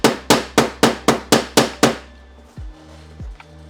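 A hammer smashes metal on the driver side of a Honda Fit, eight loud, close, evenly spaced ringing blows with a metallic resonance, followed by a couple of softer knocks and fading ring.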